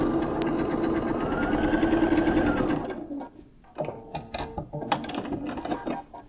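Rapid mechanical whir of a sewing machine stitching the corner of a quilt block, a busy motor run lasting about three seconds, then short stop-start bursts of stitching with a quiet pause between.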